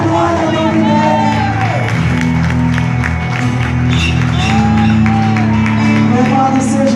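A loud church congregation cheers, whoops and applauds continuously, with shouting voices rising over a dense wash of clapping.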